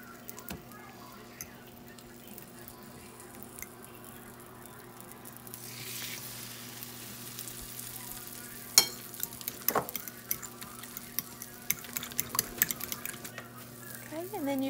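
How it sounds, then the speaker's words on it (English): Strawberry bread French toast browning in a skillet gives a steady low sizzle and frying hiss. Scattered utensil clicks and scrapes grow busier later, and a voice talks over it. "And then put it in your skillet and let it get brown."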